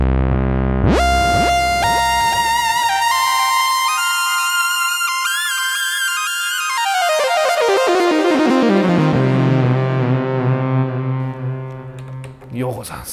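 A Yamaha Motif XF synthesizer plays a thick analog-style patch: a loud, dense sustained chord rings out, then its tone sweeps darkly downward as a filter closes, with no talking.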